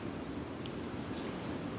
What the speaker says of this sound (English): Heavy rain near your location.